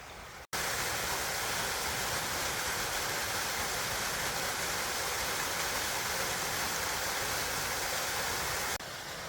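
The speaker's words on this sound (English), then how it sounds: "Nice little find, that waterfall." A waterfall at Lead Mines Clough on Anglezarke Moor pours into its plunge pool. Its steady, dense rushing roar cuts in abruptly after a brief pause, holds unbroken for about eight seconds, then drops off slightly.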